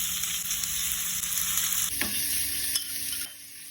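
Chicken sizzles and crackles in hot oil, with a loud, steady frying hiss throughout and a brief stirring clatter partway through.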